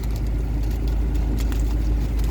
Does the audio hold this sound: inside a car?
yes